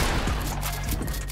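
A short burst of Fortnite gunfire in a creative fill match, several quick shots close together at moderate loudness.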